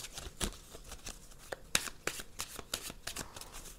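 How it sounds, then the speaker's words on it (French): Petit Lenormand cards shuffled and drawn by hand, a close run of crisp riffling flicks and light slaps in an uneven rhythm, quiet and with no talking. "on va tirer quelques cartes avec le petit Lenormand"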